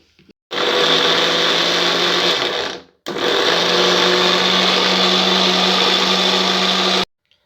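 Electric blender whirring as it mixes a mango milkshake with milk, two loud steady runs separated by a brief pause, the motor hum constant and close.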